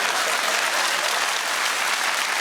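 Studio audience at a British comedy panel show breaking into loud, dense applause, a steady wash of clapping filling the whole moment with no talk.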